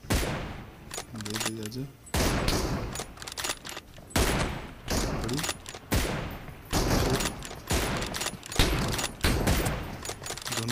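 Repeated bursts of automatic gunfire from PUBG Mobile team deathmatch, heavy volleys separated by brief pauses, loud and close, with a player shouting briefly over the shooting.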